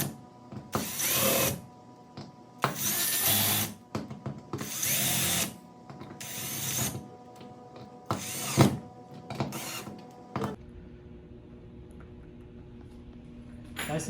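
A power drill fitted with a screwdriver bit drives screws while a chandelier is hung, with repeated loud whirring bursts of a second or so, separated by brief pauses and then a lower steady hum.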